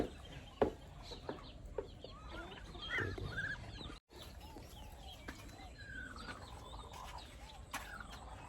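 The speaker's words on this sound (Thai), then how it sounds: "ตัวนี้แม่ไก่ ที่กำลังฟักไข่" A black-bone hen sitting on eggs gives soft, scattered clucks and short calls among farm sounds. The calls are faint and intermittent over a quiet background, with one sharper sound near the start.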